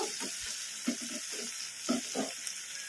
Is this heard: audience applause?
no